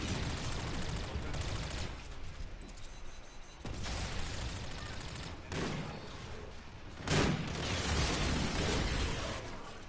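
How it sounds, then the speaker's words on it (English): Enemy shotgun fire in a first-person shooter game, a dense, continuous barrage of blasts and gunfire layered over steady battle noise, with a few sharper louder shots standing out, no talk. "These guys are using shotguns."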